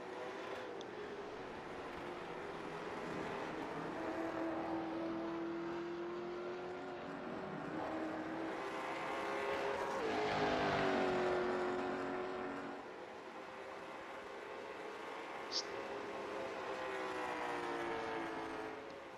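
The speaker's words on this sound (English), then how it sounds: "Boys are just on an out lap at the moment, getting some heat into the tyres" Trans Am race cars on an out lap, warming their tyres: a steady engine drone with rising and falling pitch that swells near the middle, the pass of one or more cars heard at moderate distance, with no talk.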